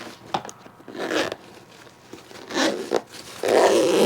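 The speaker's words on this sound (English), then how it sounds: "All right, it will zip." A Level8 20-inch glitter carry-on luggage bag is zipped shut in several close, rasping pulls of varying length, with pauses and handling noise between, the final pull longest and loudest.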